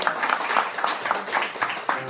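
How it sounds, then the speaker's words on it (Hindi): Audience applause at a live FM radio event honoring two musicians, a dense steady patter of many hands filling the space, with faint speech mixed underneath. "a huge round of applause for both of them"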